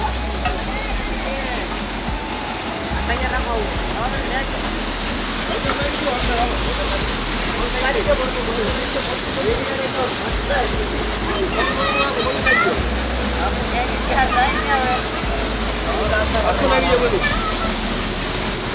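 A waterfall where people are bathing roars continuously, with loud rushing, splashing water filling the scene while voices talk and call out over it.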